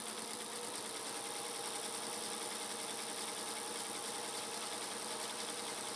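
A Singer 221 Featherweight sewing machine running steadily, a continuous even mechanical whir with rapid fine rattle, close and alone with no voices.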